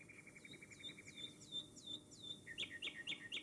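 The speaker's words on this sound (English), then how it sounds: "All around them, in the tops of the trees, the nightingales were singing." Nightingales singing in the treetops, repeated sweet chirping phrases and rising whistles in quick succession, soft and somewhat distant with no talking.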